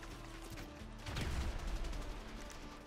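Gunfire bursts in a video game, including a loud cluster of shots and a blast near the middle, over a steady hum of game background noise.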